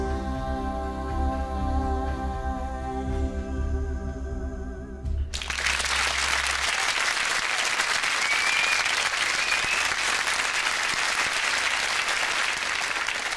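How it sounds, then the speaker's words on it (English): A studio audience at a 1994 Song For Europe televised song contest applauds: a song ends midway, then loud, dense, sustained clapping fills the rest. "Applause from our enthusiastic studio audience."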